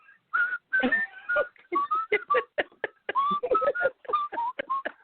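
A person whistles a quick, chirpy tune up close, short bright notes in a lively rhythm with brief pauses between phrases.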